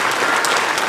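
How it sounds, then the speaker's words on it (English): An audience in a church setting breaks into a round of applause, a dense wash of clapping that fills the whole short moment, close and loud. "I would love for all of you to welcome her with a round of applause"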